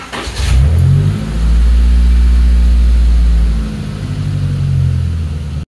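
Nissan 200SX S12 engine running on a Speeduino standalone ECU, idling loudly and close with a deep rumble and a smooth rise in revs that holds steady before easing back.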